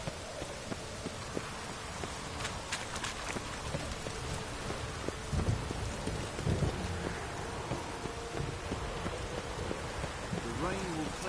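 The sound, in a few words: rain and thunder in The Witcher video game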